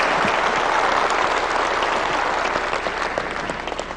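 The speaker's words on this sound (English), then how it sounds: "Round of applause for Rick." An audience applauds at Sony's E3 2005 press conference, a dense, loud, steady clapping from a large crowd that tapers slightly toward the end.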